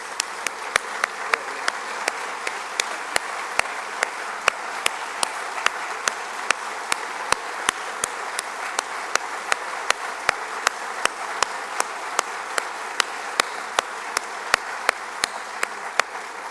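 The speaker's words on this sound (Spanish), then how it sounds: "despidámoslos con un fuertísimo aplauso" An audience claps after a youth symphony orchestra performs at an anniversary ceremony, a long steady wash of applause with sharp individual claps standing out.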